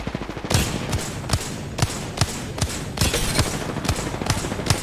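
Rapid gunfire in a battle royale shooter video game, irregular sharp bursts of shots, some clustered and some spaced, loud and close throughout with no voices.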